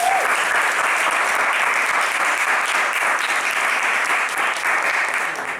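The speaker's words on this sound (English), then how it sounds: "Huge round of applause." Loud, dense applause from an audience at the opening of the season finale of a competition show, filling the whole stretch and fading slightly at the very end.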